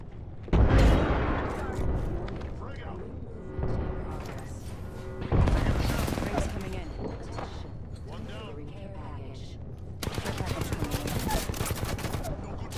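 Gunfire bursts and booming grenade blasts crack through a battle royale firefight, loud and repeated in clusters, with squad voices talking over the shooting.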